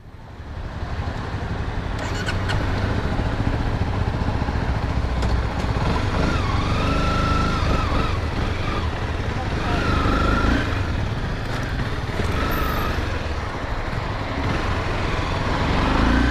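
A motorcycle ridden on the road, its engine a steady, continuous drone with wind rush throughout, close and loud from start to finish.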